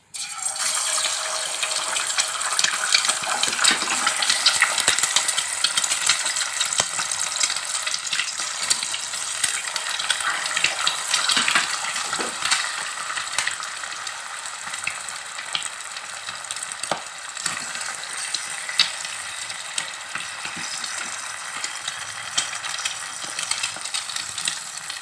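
Eggs fry in hot sunflower oil in a pan, a steady bright crackling sizzle running continuously throughout with occasional small pops, no voices.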